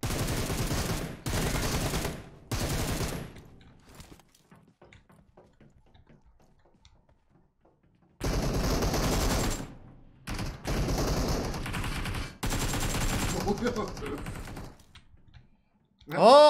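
Bursts of automatic gunfire from PUBG Mobile come in several loud, separate volleys with quiet gaps between them, alongside keyboard clicks and someone talking.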